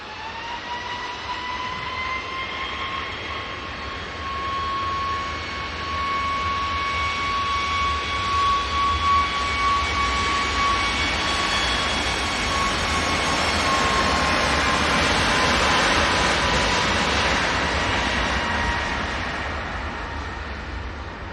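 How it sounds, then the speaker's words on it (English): A Ryanair Boeing 737 jet takes off from Manchester Airport toward Vienna, a broad steady engine roar with a drifting whine that swells toward the middle and slowly fades, no voices over it. "Ryanair 737 going off to Vienna"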